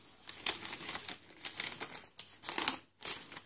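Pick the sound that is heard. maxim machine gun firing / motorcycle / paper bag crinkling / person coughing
paper bag crinkling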